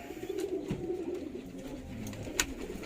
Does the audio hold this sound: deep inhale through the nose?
no